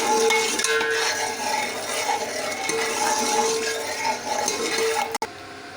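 Salt being stirred into a heating pot for chicken biryani: a spoon scrapes and clinks against the metal over a steady, close hiss that runs throughout.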